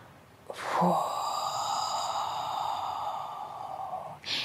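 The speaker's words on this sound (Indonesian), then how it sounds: "Exhale, hembuskan lewat mulut seperti meniup udara lewat sedotan." A single long exhale blown out through pursed lips, as if through a straw, during a diaphragmatic breathing exercise; it is close and steady, lasts about three and a half seconds, and has no talking over it.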